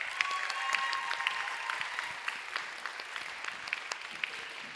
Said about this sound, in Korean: 우리 24년도 함께 갈 신임원단 앞으로 모실 때 박수로 환영하겠습니다.